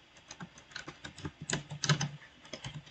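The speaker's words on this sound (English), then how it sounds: "let me just continue typing it in" Fingers type quickly on a computer keyboard, producing a steady, uneven run of close, crisp key clicks with a few louder strokes.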